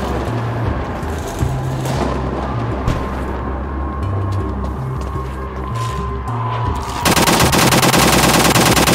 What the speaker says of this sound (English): now we have an automatic rifle though